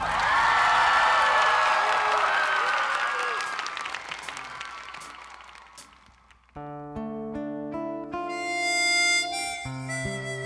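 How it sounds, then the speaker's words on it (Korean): A television trot gala show audience claps warmly, with loud sustained applause and a few cheers that fade out as a song's musical introduction begins. "뜨거운 박수로 청해 주십시오."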